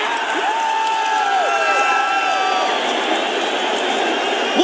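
A stadium crowd of 55,000 at a UFC event in Canada roars and cheers on its feet, a dense, loud, sustained wall of crowd noise with whistles rising above it.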